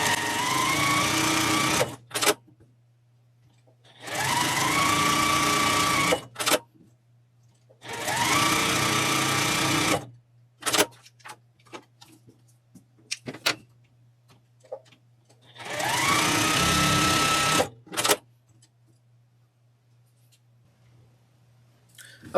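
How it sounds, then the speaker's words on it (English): A sewing machine stitches around all four edges of a quilt square, running in four loud bursts of a few seconds each, separated by quiet pauses with small clicks and a steady low hum underneath. "we're going to just sew around all 4 edges of the square"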